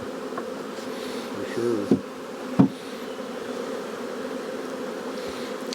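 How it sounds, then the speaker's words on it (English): Honeybees buzz in a dense, steady drone from an opened hive box full of bees in a beeyard, with a couple of sharp knocks of equipment and a brief spoken remark. "That's a full box of bees right there."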